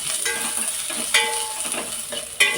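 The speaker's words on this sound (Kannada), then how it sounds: "ಈಗ ನೀರುಳ್ಳಿ ಸ್ವಲ್ಪ ಫ್ರೈ ಆದ ನಂತರ ಕಾಯಿ ಮೆಣಸನ್ನು ಹಾಕ್ತಾ ಇದ್ದೀನಿ" Green chillies go into onions frying in a pan, with a steady close sizzle and a few louder scraping stirs.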